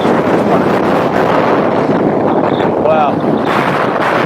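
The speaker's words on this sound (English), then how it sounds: "man, is it windy" Strong wind on the open summit of Bleaberry Fell in the Lake District, roaring steadily and buffeting the microphone, loud and continuous, with faint voices partly buried beneath it.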